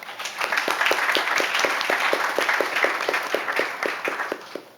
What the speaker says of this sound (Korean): 한 분 한 분 박수로 맞이해 주시기 바랍니다.